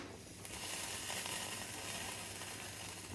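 A pot of lamb shank curry with plenty of water boils at a low, steady bubbling hiss that is faint and continuous, with no voices.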